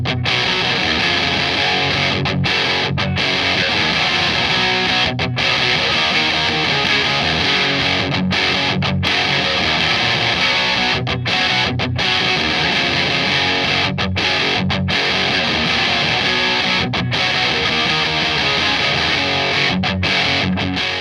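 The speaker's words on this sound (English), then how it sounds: "if you click it over to C mode or custom mode, you get a modified DS-1" Electric guitar played through a Boss DS-1X distortion pedal switched to its custom mode, giving a thick, loud, continuous distorted tone with repeated short gaps between strummed phrases, no voice over it.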